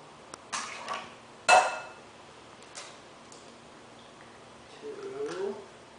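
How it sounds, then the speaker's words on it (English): Eggs cracking into a bowl, one of eight for a crepe batter: a sharp close crack with a brief wet drop, a few softer taps and shell knocks before and after, quiet room between. "we have 8 eggs here that we're going to crack into the bowl"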